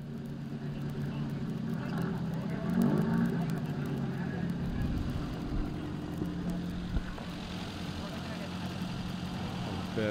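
Race cars, Ford Laser and Mazda models up to 1500cc, rumble and idle as they line up at a circuit meet, a steady engine drone with a revving swell partway through, under continuous commentary.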